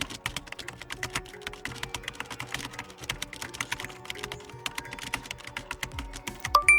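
Rapid clicks from a computer keyboard as a command is typed into a Windows command prompt, a dense run of close, crisp keystrokes with brief gaps and no talking.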